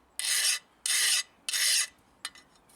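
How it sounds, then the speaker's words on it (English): A rasp grinds across metal, flattening the heavy spines in a blacksmith's shop: three loud, even strokes close by, then a short scrape. "it's definitely flattening off those heavy spines on the rasp"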